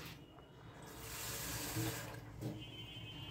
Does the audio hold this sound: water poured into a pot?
yes